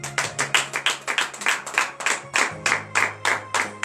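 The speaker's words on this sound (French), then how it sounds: "C'est la grâce de l'Éternel que je vous demande d'applaudir très très fort ce matin" A church congregation at a morning prayer service in Benin claps hard in a steady rhythmic beat, about three claps a second, with a sustained sung or hummed tone beneath and no speech over it.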